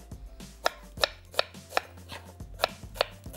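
A knife chops a medium onion into small pieces on a cutting board in a kitchen, with about seven crisp, evenly spaced chops, close and clear, and no talking.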